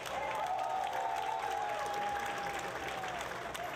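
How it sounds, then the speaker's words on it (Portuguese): Audience applause at a Bodo de Leite festival gathering on Terceira in 2010: a steady, dense wash of many hands clapping, sustained and fairly loud throughout, with a thin high tone running through it. "merece os nossos aplausos."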